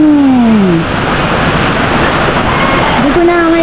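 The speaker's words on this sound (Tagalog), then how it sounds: "At syempre, malakas ang ulan" Heavy rain pours in a dense, loud, continuous hiss, with a voice speaking over it at the beginning and again near the end.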